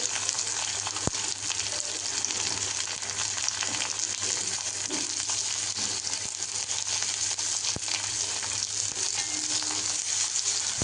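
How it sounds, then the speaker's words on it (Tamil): Onion and tomato sautéing in a pan for a tamarind curry with broad beans and brinjal, a soft, even sizzle running continuously with a few faint stirring knocks, no voices. "வெங்காயமும் தக்காளியும் நல்லா வதக்கிட்டு பாருங்கள்"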